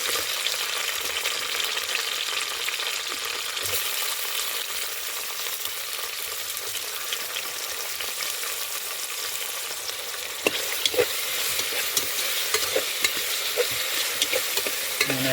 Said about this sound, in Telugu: కట్ చేసుకున్న టమాటాలు వేసేసుకుందాం ఇప్పుడు.